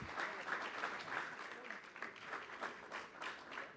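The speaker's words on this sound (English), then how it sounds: "Applause for both of them, please, ladies and gentlemen." A seated audience at a cricket-themed stage event claps for the two arriving anchors, a steady, moderately distant patter of many hands with faint voices underneath.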